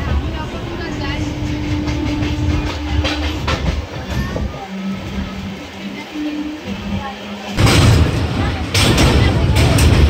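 A passenger train rolls along the rails with a continuous rumble and faint tonal squeals, then a louder rush of noise near the end, while people's voices are heard in the background.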